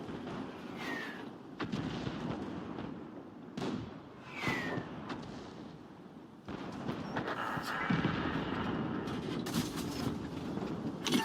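Tank gun firing regular rounds in World of Tanks, with heavy booming shots landing every couple of seconds over a constant rumbling engine and battle noise, loud and dense.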